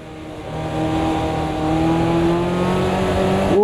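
A race car in Automobilista 2 holds a steady, loud engine drone as the inside rear wheel spins up, the pitch slowly climbing before a sharp rise at the end.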